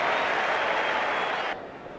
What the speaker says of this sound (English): a roar of applause from this SCG crowd